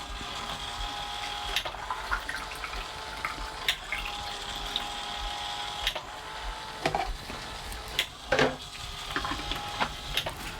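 Blix chemistry runs into a Jobo CPE film processor with a steady liquid pour and a mechanical hum, broken by a few small clicks and knocks, close and even throughout.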